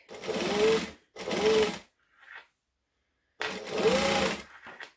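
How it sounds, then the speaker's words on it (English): Close, quiet bursts of a sewing machine stitching fabric an eighth of an inch from the edge: two short runs, a pause with a faint handling sound, then a longer run. "I'm just stitching 1/8 of an inch from the edge of the fabric."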